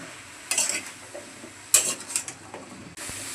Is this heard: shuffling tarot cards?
no